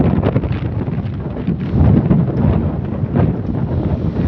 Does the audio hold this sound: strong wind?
yes